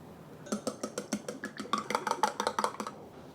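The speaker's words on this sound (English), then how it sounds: "So I'm just gonna beat the eggs" Rapid rhythmic clinking of a utensil against a bowl as eggs are beaten, a steady run of quick taps close up, getting slightly louder toward the end.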